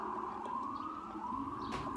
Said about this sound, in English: Oh, wow. You heard the sirens.